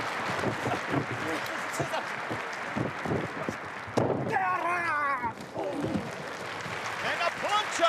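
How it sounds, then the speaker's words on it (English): A wrestling crowd in the Tokyo Dome applauds, with steady clapping under thuds from the ring and a commentator talking over it. "We can hear the applause from the crowd."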